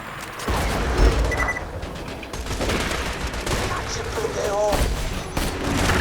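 Rapid gunfire bursts from a first-person shooter, Borderlands 2, played in the Tundra Express area against Goliath enemies, with dense overlapping shots and booms filling the scene continuously.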